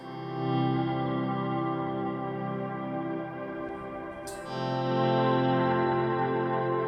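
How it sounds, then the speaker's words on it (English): Electric guitar swells, shaped with a volume pedal and run through an overdrive distortion pedal, make sustained, smeared, distorted tones that rise and hold, loud and alone, with a sharp transient midway before the next swell. "So I've put an overdrive at the beginning of that chain just to give it a bit of bite and a bit of distortion."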